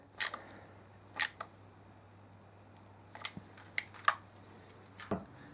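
A small fine-thread bolt at the front of a BMW R1200RS motorcycle is tightened, giving a handful of crisp close ratchet-like clicks and ticks spaced irregularly over a faint steady hum.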